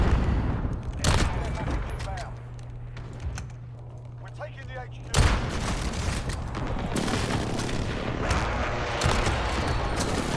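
Kar98 rifle shots crack in Call of Duty Modern Warfare, a couple of sharp, loud booming reports amid busy gunfire and explosions in a noisy multiplayer match.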